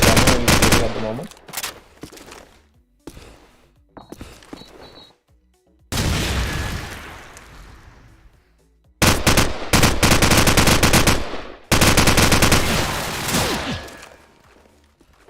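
Bursts of loud automatic gunfire from Call of Duty 4 Modern Warfare rattle in rapid volleys, separated by short quiet gaps and occasional single shots.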